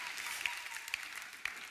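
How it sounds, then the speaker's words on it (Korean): A church congregation claps during a Sunday worship service, a brief, steady patter of many hands with a few sharper claps standing out, moderately distant and without speech. "오랜만에 받는 박수라 가슴이 뭉클합니다"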